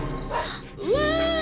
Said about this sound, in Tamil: நாய் குறைக்கிற சத்தம் கேக்குதுடா.